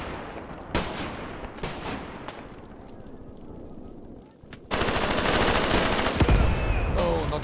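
Gunfire from a World War II tactical battle in the video game Graviteam Tactics: sporadic sharp shots and bursts, then a sustained loud stretch of dense firing and rumbling battle noise in the second half.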